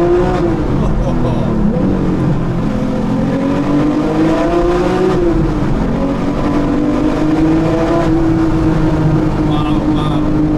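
Porsche 911 R engine pulling hard on the road, a loud sustained growl with a rising and falling pitch as it accelerates and shifts, heard from inside the car, with excited voices faintly mixed in.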